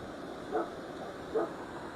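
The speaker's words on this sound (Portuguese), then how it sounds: "Hoje está agitado os cachorros." Two short, faint dog barks about a second apart ring out at a fish farm, distant over a low steady background hum.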